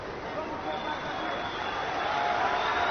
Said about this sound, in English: Appreciative crowd for these two warriors as we hit the final minute of the fight.